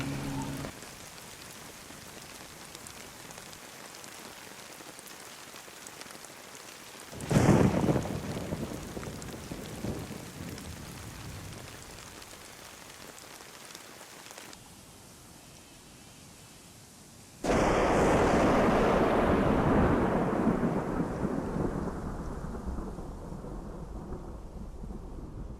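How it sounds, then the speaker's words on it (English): Real rain blended with DayZ game rain, a steady hiss broken by a sharp thunder crack that rumbles away, then a heavier, louder downpour that keeps pouring. "It's raining in real life and in the game."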